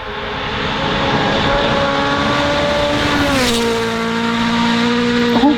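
Rally car at Rally Finland 2025, its engine holding a loud, steady high-revving tone with a drop in pitch mid-way as it shifts, then a brief rise near the end, close and continuous with no talk.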